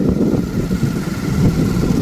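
A motorcycle on an open desert road in the Rann of Kutch gives a steady, close, loud engine rumble for two seconds with no clear rise or fade. No voices.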